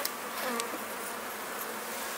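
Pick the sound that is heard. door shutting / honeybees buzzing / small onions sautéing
honeybees buzzing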